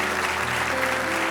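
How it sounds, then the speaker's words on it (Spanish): A brief burst of church applause during a Spanish-language sermon, dense and steady with a sustained tone running beneath it. "Dele un fuerte aplauso al Rey"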